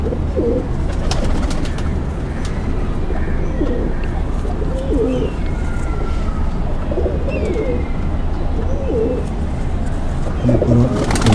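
Pigeons coo repeatedly in soft throaty phrases over a constant low rumble and noisy background, several birds calling at close range.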